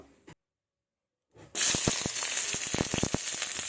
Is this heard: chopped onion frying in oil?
yes